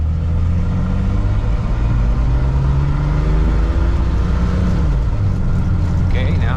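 A Toyota FJ62 Land Cruiser rolls along in drive, its engine droning steadily close by as the transmission shifts and the pitch steps down, with a voice talking over the running vehicle.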